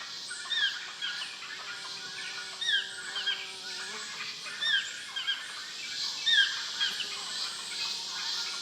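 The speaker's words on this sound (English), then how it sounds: "White-throated toucans mark their territory with a characteristic call" Repeated bird calls ring out in a Costa Rican cloud forest, credited to a white-throated toucan marking its territory, sounding as short yelping notes about every second, moderately distant over a soft forest hum with no talking.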